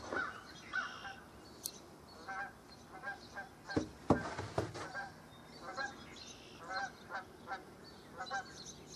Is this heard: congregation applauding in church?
no